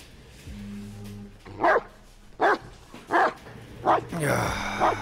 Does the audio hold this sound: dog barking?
yes